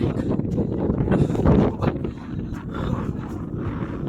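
Steady gusting wind at a beach on the Doha, Qatar coast buffets the microphone with a low, rumbling roar throughout, loud and close, with no clear voices.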